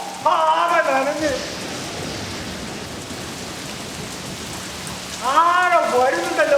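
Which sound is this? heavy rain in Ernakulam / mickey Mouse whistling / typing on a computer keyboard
heavy rain in Ernakulam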